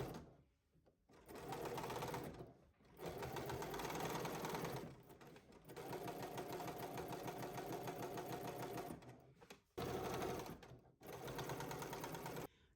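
A home sewing machine understitches a garment seam from a McCall's M8551 pattern, running close and steady in several long bursts of rapid, even needle clatter separated by brief pauses.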